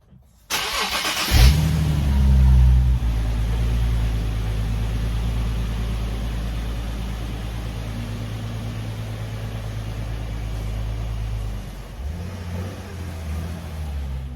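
A Nissan 370Z Nismo's engine cranks, fires up with a brief rev, then settles into a steady, loud idle close by, the rumble dropping slightly near the end.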